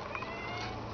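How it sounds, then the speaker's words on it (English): A baby kitten gives a brief, faint, high mewing cry lasting under a second over a soft background hiss. "Are they crying? What? That's baby kitten."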